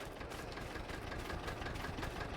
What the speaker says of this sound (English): Got this little tractor sitting.